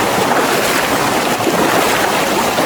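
River current rushes continuously during a river trek along a riverbed in Tarlac, a dense, steady broadband roar of flowing water with no pauses, close and loud, with no voices.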